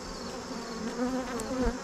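Honeybees buzz inside an opened beehive: a close, steady, droning hum of many bees over a couple of seconds, heard alone.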